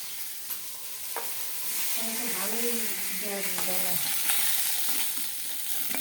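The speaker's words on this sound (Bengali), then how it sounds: "এখানে মাছ ভাজা হয়ে গেছে" Fish fries in hot oil in a pan, a steady close hiss and sizzle with a few stirring scrapes, while a voice hums or speaks briefly in the middle.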